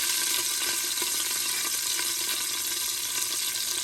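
Curry leaves, a cinnamon stick, bay leaf, cardamom, cloves and hing sizzle in hot oil in a pan for dal khichdi. The hiss is constant, bright and close, with faint stirring ticks and no voice.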